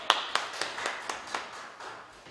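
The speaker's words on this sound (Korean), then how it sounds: "박수로 환영합니다." Audience at a charity MOU signing ceremony in a Seoul veterans' hall clapping to welcome a pastor to the stage, several distinct claps ringing out in a loose rhythm and softening as they fade.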